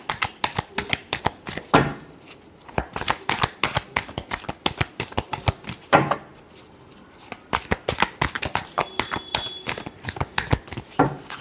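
Tarot cards shuffled for a horoscope reading, a long run of quick crisp riffling slaps and taps with two brief pauses, close and loud, with no voices.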